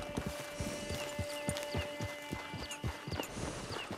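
Horse hooves in the Red Dead Online game, a steady clip-clop gait of sharp repeated hoof strikes at an even walking pace over a faint tonal background hum, moderately close.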